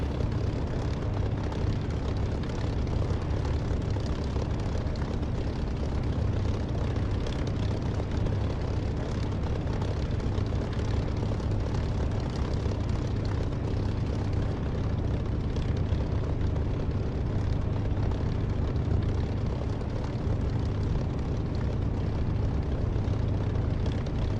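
Aircraft engine roaring steadily during takeoff in the DCS flight simulator game, a loud, continuous broadband drone that holds without pause throughout.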